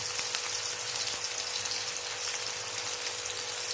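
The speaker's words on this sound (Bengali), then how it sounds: "আলুগুলো ভালো করে ভেজে নেব, একটু লাল লাল করে ভেজে নেব আলুগুলো।" Potatoes frying in a pan until browned, for a gourd-and-fish curry: a steady, even sizzle with fine crackling throughout, close and continuous, with no talking.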